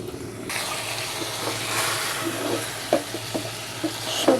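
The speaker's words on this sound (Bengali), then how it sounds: "সবজিগুলো আমি একটু পর পরে নেড়ে ছেড়ে ঢেকে দিচ্ছি আর ভালোভাবে কষিয়ে নিচ্ছি।" Mixed vegetables frying in a pan while being stirred and sautéed; a continuous sizzle with intermittent scraping and clinking of the spatula against the pan, close and moderately loud.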